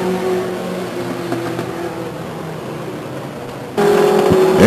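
Legends race cars at Stockton 99 Speedway roar in a steady, wavering engine drone, with the sound jumping noticeably louder near the end as cars pass closer.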